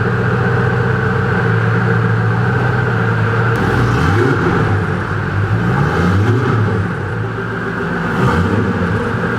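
A Koenigsegg CCXR Trevita supercar idles with a deep, steady rumble, then swells through several rising and falling revs, loud and close.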